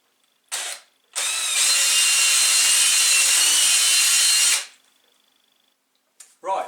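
A power drill bores out an old cable end in a pit bike part. It gives a short burst, then one steady loud high whine lasting about three seconds, close up, and spins down at the end.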